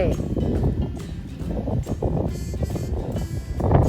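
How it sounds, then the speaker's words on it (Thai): Strong gusts buffet the microphone outdoors, giving a loud, continuous low rumble that swells and drops, with a person talking over it. "เสียงดังอย่างนี้ ลมแรงมาก"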